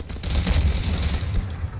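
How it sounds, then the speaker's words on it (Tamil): Firecrackers burst in the video game Earthfall as a dense rapid crackle of overlapping pops with strong low rumble, steady and loud throughout. "பட்டாசு வெடியுது."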